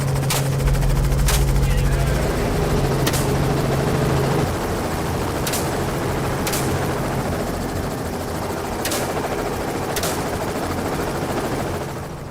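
A helicopter used for hog hunting flies with a steady, loud rotor and engine drone. Sharp periodic cracks repeat through it, and a low hum fades after a few seconds. Talk runs over the drone.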